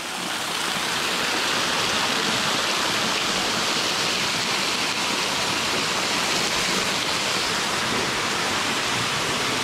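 Water rushes through a cave called Toca da Onça as a dense, continuous roar that stays loud and unbroken throughout, with no voices.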